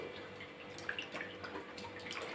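Sliced potato wafers are rinsed and moved into a fresh bowl of water, making soft, quiet sloshing, splashing and dripping sounds.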